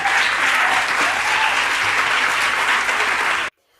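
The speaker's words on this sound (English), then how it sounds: "Let's give Mr. Mr. Austin, another round of applause" A symposium audience applauds after a speaker's story, a full, loud burst of clapping that holds steady and then cuts off abruptly near the end.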